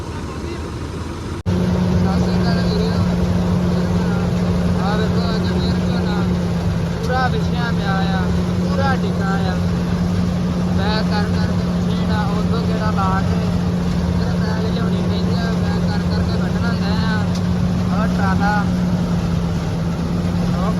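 A 4x4 tractor engine drones steadily at close range in wet fields with a low, constant hum, while people talk over it throughout.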